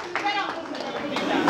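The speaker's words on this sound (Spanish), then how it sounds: "un aplauso a nuestros novios" Wedding guests at a Queens, NY reception applaud the bride and groom, a broad wash of clapping hands that runs steadily throughout, with a DJ's voice and chatter heard over it.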